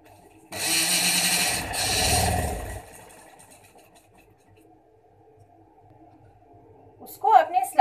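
A sewing machine runs for about two seconds, stitching the seam of a shalwar. It is fairly loud and close, then stops into near silence before a brief voice at the end.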